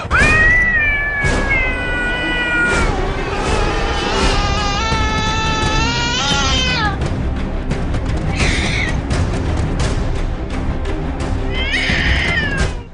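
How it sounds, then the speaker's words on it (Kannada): Several house cats meow and caterwaul loudly and continuously, with long wavering yowls overlapping, close and insistent throughout. "ಮನೆಯಲ್ಲಿನ ಬೆಕ್ಕುಗಳು ವಿಚಿತ್ರವಾಗಿ ವರ್ತಿಸಲು ಆರಂಭಿಸಿದ್ದು"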